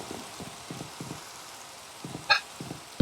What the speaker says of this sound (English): What a terrible day for rain.